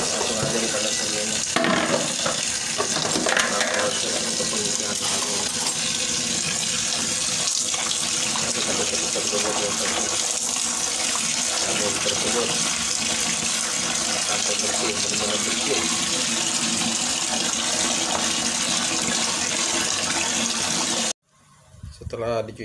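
Tap water runs steadily while mushrooms are rinsed under it in a sink, a close, loud continuous gush and splash lasting about twenty seconds before cutting off abruptly, with a voice talking over it.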